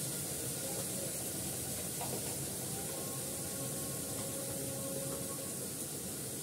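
Cumin seeds sizzle in hot oil in a pan as a steady, even hiss that carries on unbroken from start to finish, with no voices over it.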